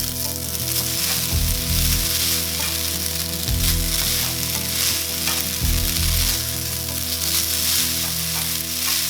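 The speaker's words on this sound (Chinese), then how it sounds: "開中大火，把麵條下鍋翻炒" Noodles tossed in a wok over medium-high heat give a loud, continuous sizzle, with rhythmic low thumps and scrapes from the turning repeating every couple of seconds.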